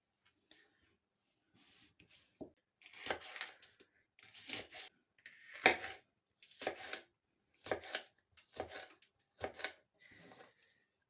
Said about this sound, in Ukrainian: Так, тепер покришу зелень і гіркий перчик.